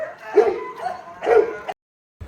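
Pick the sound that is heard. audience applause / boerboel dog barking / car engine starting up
boerboel dog barking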